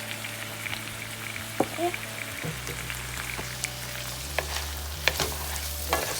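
Softened vegetables with dry American parsley sizzle and crackle steadily in a pan while being stirred, with occasional scrapes and a short spoken word over the cooking.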